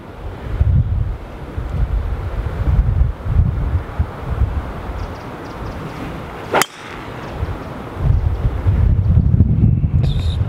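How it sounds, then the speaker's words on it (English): Strong wind buffets the microphone on Dainton Park golf course, making a loud, continuous rumbling roar that swells in gusts. A brief sharp click cuts through near the middle. "I think there's quite a lot of wind."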